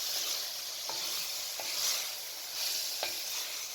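Mutton with spices being stirred in a cooking pot, giving a soft, steady sizzle with a few brief scraping knocks from the spoon, fairly quiet and with no talking.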